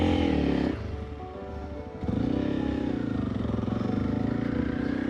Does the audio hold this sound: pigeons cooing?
no